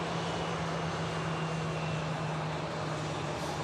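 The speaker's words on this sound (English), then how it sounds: "Next to land, and another TUI Dreamliner." A TUI Boeing Dreamliner landing at Manchester Airport, heard as a steady, moderately distant jet engine roar with a constant broadband rush and a low hum throughout, with no talk.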